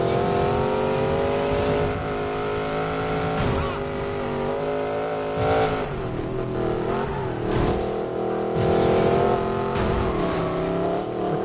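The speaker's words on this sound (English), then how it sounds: "Just doing burnouts at this one here at the moment." A Koenigsegg Regera supercar does burnouts in the video game Need for Speed Payback: a loud, continuous engine drone with revving swells and bursts of tyre squeal throughout.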